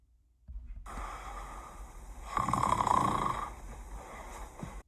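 A voice imitates a snoring granny with a long, breathy rasping snore that swells in the middle and fades out, close and alone.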